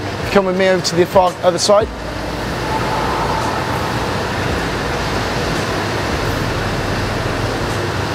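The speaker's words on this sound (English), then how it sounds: "What that sound you can hear is the fans." Steady broadband whoosh of several fans running in a warm gym, constant and fairly loud, with someone speaking briefly over it at the start.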